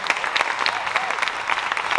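An audience claps after a student music performance, a short burst of lively, somewhat uneven applause with individual claps standing out, close and moderately loud.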